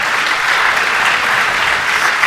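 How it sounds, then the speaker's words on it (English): A high school spring concert audience claps in a dense, loud, continuous wash of applause from a large crowd, with no talking over it. "give yourselves a lovely round of applause"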